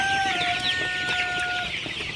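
Sonali super hybrid chickens on a farm cluck and call continuously in a dense, close flock chorus, with no voices over them.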